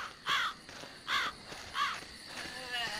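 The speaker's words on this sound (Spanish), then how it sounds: "¡Cállense, estúpidos cuervos!" Crows caw in the video game Land of the Dead, four harsh calls spaced about a second apart. They sound fairly close over a faint, steady background.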